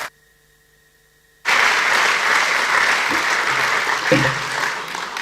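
After a moment of near silence, a conference audience at an ethics and leadership in sports summit bursts into loud, sustained applause that holds steady to the end.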